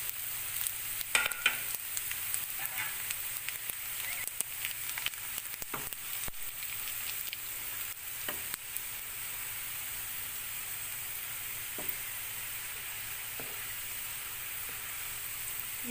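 Cumin seeds sizzle in hot oil for a tempering of whole black masoor dal, a steady bright crackle running throughout with a few sharper pops and scrapes, close and moderately loud, with no talking.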